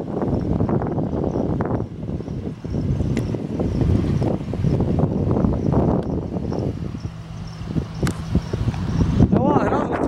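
The Tensift river near Marrakech in flood, a loud continuous roar of rushing water mixed with gusty wind buffeting the microphone, while someone talks over it throughout.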